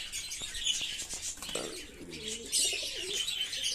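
Several quick taps or flutters come first, then pigeons coo nearby in low, throaty, rolling calls against a hiss of background chirping.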